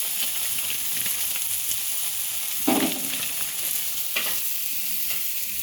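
Salt, sugar and spices being stirred in a sizzling pan while making Bengali tarka: a steady frying hiss runs throughout, with a couple of louder spatula scrapes.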